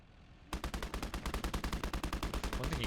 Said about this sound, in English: finally get the MG out